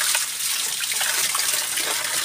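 Waterfall rushing water, a loud continuous hiss and roar heard up close with no talk.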